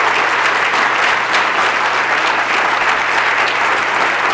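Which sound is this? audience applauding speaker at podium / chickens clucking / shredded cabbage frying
audience applauding speaker at podium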